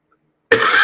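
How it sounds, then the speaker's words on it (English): A single loud, harsh cough bursts in after half a second of silence, close to the listener and alone without any talk. "to give people a break from my coughing"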